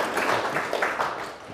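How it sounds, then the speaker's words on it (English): Audience applause after a panel on smart cities and climate action at a conference, a short burst of dense, steady clapping from a crowd. "Please give them a round of applause"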